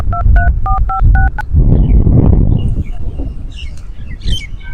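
Telephone keypad dialing tones: about seven short, evenly spaced dual-tone beeps in quick succession, followed by a rustling handset noise and faint bird chirps in the background, with no voice.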